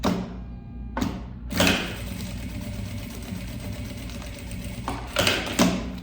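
A sewing machine stitches a bag lining with a 3.5 to 4 stitch length, giving a steady mechanical whirr that runs continuously for several seconds, marked by a few louder bumps at the start and near the end.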